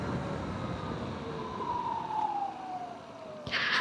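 Royal Enfield Flying Flea electric motorcycle being ridden, a steady whine rising and falling in pitch over continuous wind rush, with a sharper hissing burst near the end.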